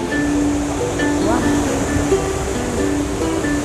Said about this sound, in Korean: 저 푸른 동해바다에서 너울너울 밀려오는 파도를 보니 돌에 하얗게 부서진